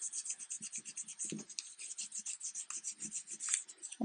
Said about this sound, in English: I can obviously do a little more polishing.